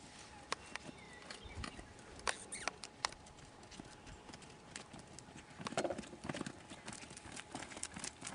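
A horse trotting during hunter-style riding practice over jumps, giving faint, irregular hoof clip-clops against a quiet background, with a few sharper knocks and thuds.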